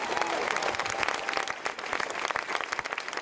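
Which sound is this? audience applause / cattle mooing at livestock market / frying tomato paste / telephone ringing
audience applause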